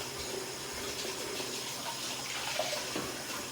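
Hot water running steadily from a kitchen tap after a water heater replacement, a continuous splashing rush of water into a sink, moderately close and unbroken.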